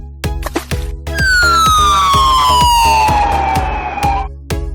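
A toy police car siren wails in a long descending tone over a steady rhythmic backing beat, loud and close, with sharp percussive hits throughout.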